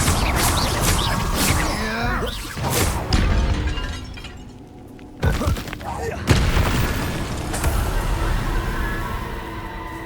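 Spells burst during Hogwarts Legacy combat: several booming blasts, shattering crashes and whooshes come in uneven succession, with a voice shouting incantations over the fight.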